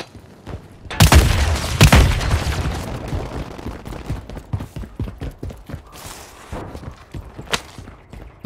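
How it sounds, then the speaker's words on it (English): A Call of Duty Warzone grenade goes off in two heavy booming blasts close together, followed by scattered gunfire, sharp shots and rumbling battle noise that fade off over several seconds. "Throwing grenade!"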